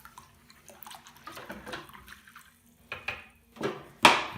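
Nutrient solution being given a quick stir in a container of water: soft sloshing and light clinks, with a sharper splash at the end, close and quiet, with no voices.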